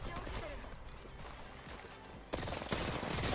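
Flatline rifle fire in Apex Legends, rapid automatic bursts that swell louder toward the end, mixed with game effects and a voice talking over it.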